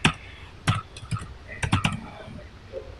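Keys clack on a computer keyboard while code is typed. The sharp taps come in irregular bursts with short pauses between them, close and clear.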